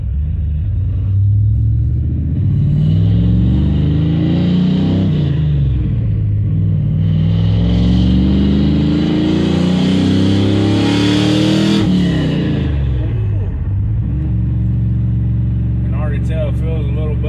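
A car with an Edelbrock carburetor revs and pulls hard on a street, its engine rumbling loudly and rising in pitch through acceleration before settling, heard close from inside with some talk.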